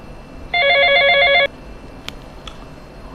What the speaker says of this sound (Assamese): আকৌ কোনে বা ফোন কৰিছে এইটো